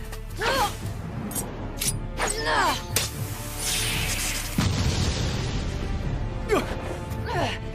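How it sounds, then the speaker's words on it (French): A booming explosion from an explosive scroll in a Boruto video game bursts midway with a crackling whoosh, surrounded by shouted game voices and short sharp effects before and after. "Malheureusement, l'explosion n'a pas eu l'effet voulu!"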